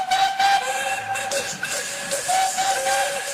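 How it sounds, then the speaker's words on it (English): Several steam whistles shriek together in overlapping tones, with hissing steam underneath, loud and sustained like a chorus of engines. "This was the signal for a chorus of whistles from engines large and small."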